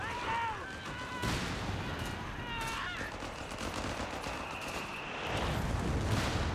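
A 75mm artillery barrage hits a building held by Grenadiers in Company of Heroes 3, heard as repeated bursts and rumbling impacts with crackling gunfire, mixed with brief voices and other battle sounds.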